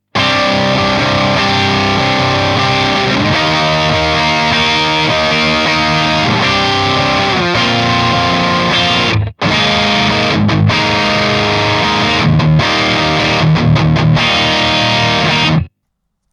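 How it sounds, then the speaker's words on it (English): PRS McCarty SC56 electric guitar played through distortion on the middle pickup position, a thick sustained overdriven riff running continuously with brief stops near the end, loud and close with no talking. "Let's go to the middle position."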